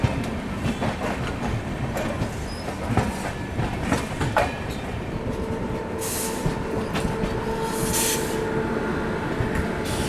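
A train rolls into the Ghaziabad Junction platform running late, a steady loud rumble with clattering wheels, faint squeals and brief hissing bursts near the end.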